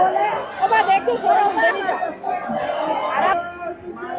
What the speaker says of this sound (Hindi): भीड़ देखो, धक्का मुक्की चालू हो गई।